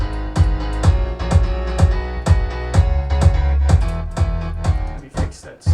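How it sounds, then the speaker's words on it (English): A Korg M1 piano bass patch playing steady rhythmic stabs in a track, loud and upfront, with repeated punchy chords and deep low end, no voices. "that's the first piano that we always try to have for the bass"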